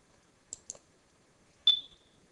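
A computer mouse clicks on buttons in GP-Pro Ex software: two quick, crisp clicks close together, then a pause and a third louder click, all close and isolated against near silence.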